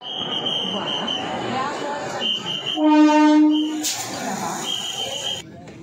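At a crowded Varanasi Junction railway station, a train horn blares loudly for about a second midway over the hum of the platform crowd, with murmuring voices and station noise all around.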